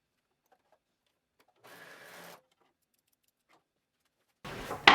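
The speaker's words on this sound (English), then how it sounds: "now I'm going to stitch using a 3/8 inch seam allowance on my serger across this short edge" A serger stitches a 3/8 inch seam along a short fabric edge in two quick, fairly quiet mechanical whirring runs, one under a second long and one starting at the end, separated by near silence.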